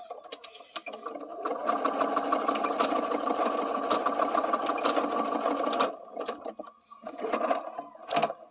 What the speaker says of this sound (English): I just sew over that one little spot a few times